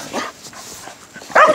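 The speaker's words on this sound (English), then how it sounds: "I'm counting how many times Bella barks" A dog barks close by during a walk, two short sharp barks, the second louder, with quiet rustling between them.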